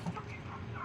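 Roosters cluck briefly at a poultry shop in Dubai, a short burst of fowl calls over a steady, busy shop background.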